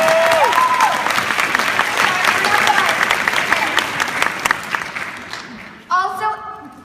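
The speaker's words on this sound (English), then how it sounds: "you all deserve a round of applause" Audience applauding performers at a children's show, a dense sustained clapping that fades gradually, then a brief burst of cheering and whooping near the end.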